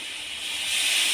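Curry masala with whisked sour yogurt and a little water sizzles in the pan for a bottle gourd curry, a steady close hiss that grows slightly louder.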